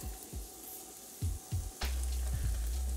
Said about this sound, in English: Let that butter melt.